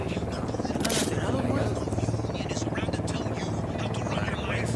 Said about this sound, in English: Unidad chopper, stay low